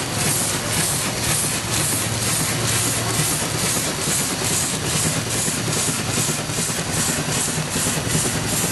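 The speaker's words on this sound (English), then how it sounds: "So, the steam engine is getting all worked up." Steam traction engine running at an old threshers show, a steady loud chugging and hissing mechanical roar with fast rhythmic beats throughout, no voices.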